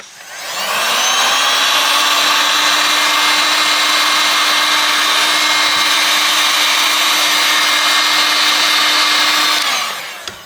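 Heat gun blowing hot air onto an Umidigi G9A phone to loosen the ear speaker during a teardown, a loud steady fan roar and whine that starts up, holds for about nine seconds, then cuts off, close up.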